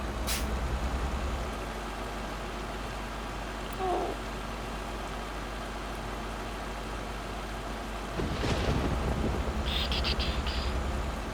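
Thunderstorm in a truck driving video game, heard from inside the cab: a steady broadband wash of rain runs throughout, with a brief sharp crack near the start and a louder rumbling swell in the last few seconds.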